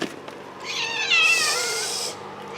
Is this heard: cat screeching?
yes